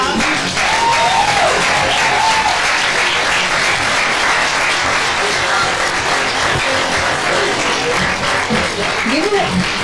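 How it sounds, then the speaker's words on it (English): Sustained applause from an audience at a poetry open-mic anniversary show, dense steady clapping with scattered cheers and whoops throughout, loud and close, with some voices mixed into the crowd. "You keep clapping, y'all."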